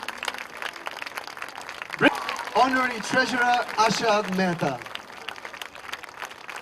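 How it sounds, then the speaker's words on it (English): An audience at an art festival ceremony claps in a continuous crowd patter while an announcer speaks over the PA, naming committee members and officers as they are introduced. "Ladies and gentlemen, we cannot stop the applause"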